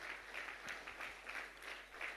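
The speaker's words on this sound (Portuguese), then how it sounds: "Os irmãos querem dar uma salva de palmas a Jesus nesta tarde" Congregation at an Assemblies of God church service in Portimão applauds for Jesus, a steady dense clapping with scattered sharper claps running throughout.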